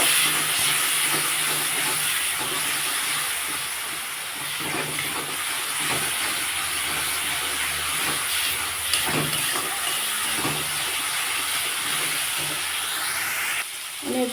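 Rohu fish curry with ridge gourd, eggplant and hog plum, salted and being sautéed in a pan, sizzles with a steady, hissing fry that stays constant and fairly loud from start to finish.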